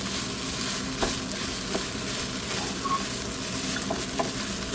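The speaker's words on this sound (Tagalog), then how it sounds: "Kimchi fried rice. Yung Korean kimchi bokkeumbap." Korean kimchi fried rice stir-frying in a pan, a continuous close sizzle with occasional soft scrapes and taps of the utensil against the pan.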